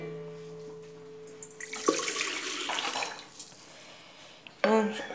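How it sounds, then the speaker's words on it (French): Lukewarm water pours into a bowl for brioche dough, a steady splashing stream for a few seconds that fades out, followed by a brief clink of a utensil. "je vais commencer par mettre l'eau tiède"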